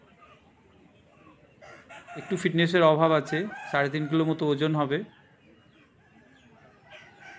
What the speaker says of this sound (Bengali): পরের মোরগটা দেখছেন